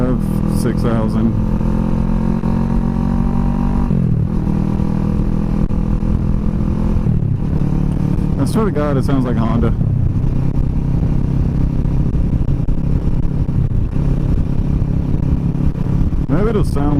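A motorcycle with a Delkevic SS70 slip-on exhaust cruises at steady revs, the engine drone holding loud and close with a couple of shifts and rev changes, while someone talks over it.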